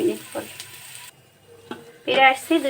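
Potatoes seasoned with salt and turmeric fry over low heat in a pan, giving a soft, broken sizzle with scattered stirring sounds, briefly dropping near-silent partway before picking up louder again.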